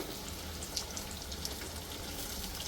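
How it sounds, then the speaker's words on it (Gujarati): Mustard seeds and white sesame seeds fry in hot oil, a steady soft sizzle with scattered tiny pops and crackles, close and fairly quiet with no talking. "આપણી રાઈ જો ફૂટી ગઈ છે તો એમાં નાખી લઈશું તલ"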